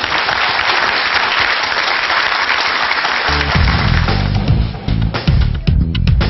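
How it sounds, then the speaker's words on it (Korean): Loud audience applause in a studio setting on a Korean scouting show, dense clapping running steadily throughout, with music entering beneath it partway through. "큰 박수 부탁드립니다."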